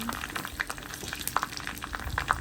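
Dried red chillies fry in oil over a low flame for a chicken pickle, a gentle continuous sizzle with soft crackling pops, close by and without talk.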